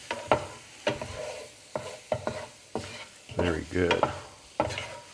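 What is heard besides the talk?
stirring spinach and garlic in a pan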